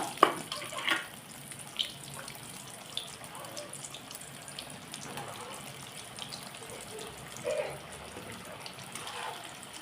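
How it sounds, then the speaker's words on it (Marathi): Slices of aloo vadi, rolled colocasia leaves, frying in hot oil, a quiet, steady sizzle with a few louder pops and crackles, close by. "तेल गरम झालंय आता आपण वड्यात तळून घेऊया"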